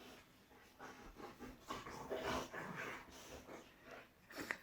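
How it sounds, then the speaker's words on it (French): Dogs pant and snort close by, restless and eager to play indoors, a busy mix of breathy huffs and snuffles with a short whimper-like sound near the end; no one talks. "J'ai les chiens qui sont venus, alors qu'ils n'ont pas le droit, et qui veulent jouer"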